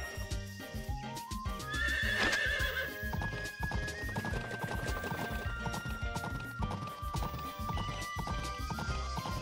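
Horse in the farming game Story of Seasons: Pioneers of Olive Town, a whinny rising early on, then clip-clopping hooves continuing in a steady rhythm with game music behind it.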